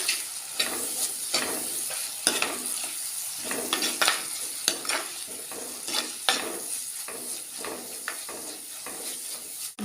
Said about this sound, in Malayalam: ഒരു 5-6 വെളുത്തുള്ളി പീസ് ചതച്ചത്, 2 പച്ചമുളക് കട്ട് ചെയ്തത്, കുറച്ച് കറിവേപ്പില, എല്ലാം കൂടി നന്നായിട്ട് ഇളക്കുക.